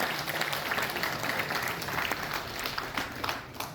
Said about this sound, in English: To have a huge round of applause for all the speakers and well-mind gathered here.